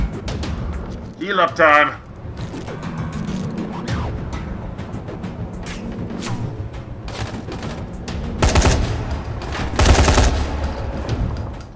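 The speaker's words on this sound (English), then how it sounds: "Someone's shooting at me." Gunfire erupts in the video game Dying Light, with sharp bursts of shooting that peak loudly twice near the end, mixed with game noise while someone talks over it.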